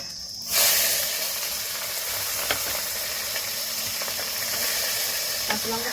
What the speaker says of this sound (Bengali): একটু গোটা জিরে দেবো, পেঁয়াজ আর কাঁচা লঙ্কাটা দিয়ে দেবো।